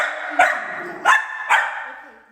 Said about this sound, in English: volume that you're hearing now is that Bisbee grumbles and runs away.